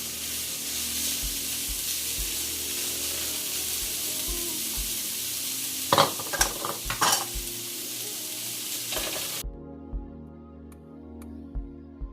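Crawfish tails heating in a frying pan give a steady close sizzle throughout, broken by a few sharp clatters of a spoon stirring against the pan before the frying noise drops away.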